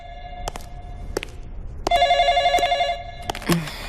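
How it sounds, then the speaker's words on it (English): A telephone bell rings in short, loud trills: a few brief clicks and bursts, then one sustained ring, followed by a short rustling sound at the end. "Yes, when the phone rings, one answers it."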